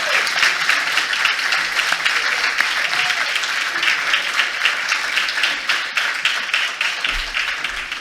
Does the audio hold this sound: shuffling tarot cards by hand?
no